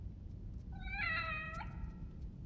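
A single cat meow, drawn out for about a second and clearly harmonic, sounds close by over a low steady background hum.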